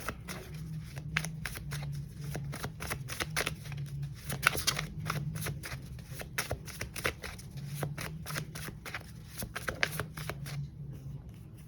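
A deck of cards being shuffled over and over, with crisp riffling bursts and light flicks in an irregular rhythm, close and fairly quiet with no voices.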